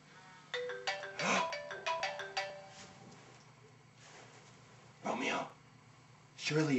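A phone ringtone plays a quick run of bright melodic tones near the start, fairly loud, followed by quieter background and short bursts of voices later on.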